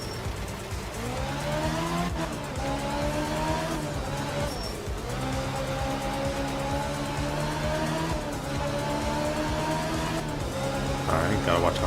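Race car engine in a racing video game, roaring and climbing in pitch through repeated gear changes over nearly twelve seconds, loud and near, with tire squeal and a voice speaking over it.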